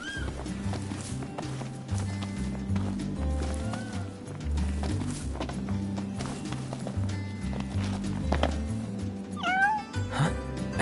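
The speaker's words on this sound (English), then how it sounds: "Hey, you're the cat we saw in Galden." A cat meows several times in the Final Fantasy XV video game, short rising mews heard over loud, steady background music.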